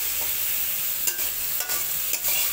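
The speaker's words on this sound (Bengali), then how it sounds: "সুন্দর করে ভেজে নেব।" Oats and mixed vegetables fry in a pan for oats khichuri, with a steady close sizzle and a few sharp scraping stirs.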